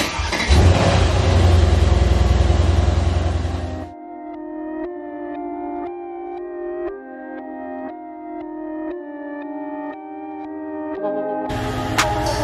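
A 2021 Mercedes-AMG C63s engine barks loudly to life and roars, then settles into a steady, quieter idle hum with a brief louder burst at the end.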